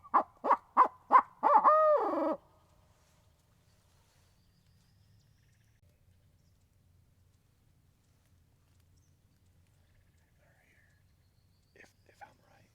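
A bird, likely an owl, calls with a series of five quick hoots and a trailing note, then near silence with faint rustling at the end.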